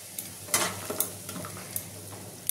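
Spice paste for a Bengali fish curry with potatoes being stirred and sautéed in a pan, a soft steady sizzle broken by a few sharp spatula scrapes and taps, quiet and close with no talking.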